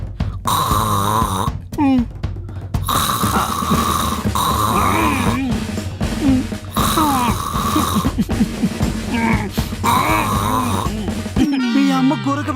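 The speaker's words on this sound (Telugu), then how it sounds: "మీ అమ్మ గురక పెడుతుందా," Loud, rhythmic snoring from a sleeping person, repeated in long rasping breaths with a shifting pitch, continuing throughout without speech.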